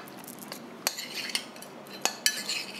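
A large metal pan handled on a stove while oil is swirled in it before shallow-frying prawns, giving scattered sharp clinks and knocks over a soft scraping background, fairly quiet and close.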